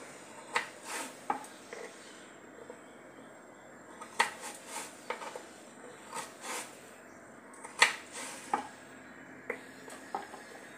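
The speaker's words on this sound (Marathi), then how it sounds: "अशा प्रकारे मी कापत आहे। मी सर्व बटाट्यांचे काप करून घेते।" A knife slices raw potatoes into pieces for French fries, producing quiet, irregular knocks and clicks of the blade against a board, spaced unevenly with soft scraping between cuts.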